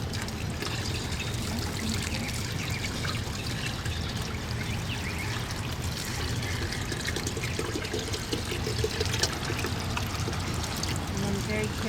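Water trickling and pouring steadily as combusted laboratory glassware is rinsed down from the sides during surface sampling, a continuous close wash of liquid lasting throughout with faint voices underneath.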